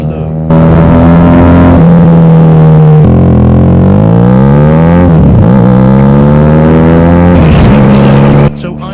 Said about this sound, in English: The exhaust I fitted was Yoshimura silencer and a 304 stainless steel bend pipe.